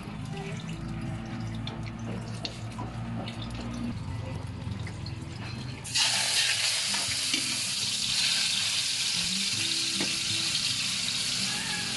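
Onion and ground meat sauté together in a home-kitchen pan: soft stirring and scraping for several seconds, then a sudden, louder hissing sizzle that carries on steadily to the end, with no talking.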